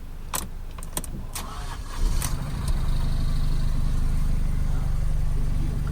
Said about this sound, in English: Let's get the car started.